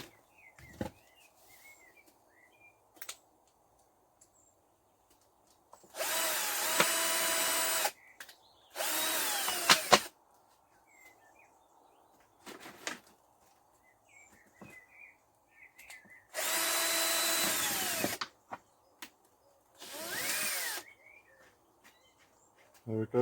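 A power drill bores drainage holes around the neck of a 2-litre plastic bottle in four loud, close bursts of whining, separated by quiet pauses with faint birdsong outdoors.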